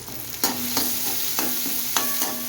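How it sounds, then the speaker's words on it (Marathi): Onion sautés in a pan under a soft, constant sizzle, with several sharp, separate scrapes and taps as a spoon stirs it at irregular intervals. No one speaks. "कांदा चांगला परतून घ्यायचा आहे"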